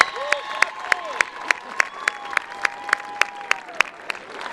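At a Festival of Lights event, clapping for coloring contest winners sounds as sharp, evenly spaced claps close by over a softer crowd, with brief voices and cheers running beneath.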